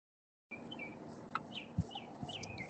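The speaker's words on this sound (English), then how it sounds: "I like we got the tweeting birds in the background" Birds chirp and tweet faintly in the background, with a few brief high calls and a soft clucking note over a quiet outdoor hum.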